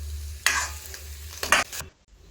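Andhra-style crab fry with salt and chili powder is stirred in a kadai, two loud scraping bursts of spatula over a quiet background before the sound cuts off abruptly.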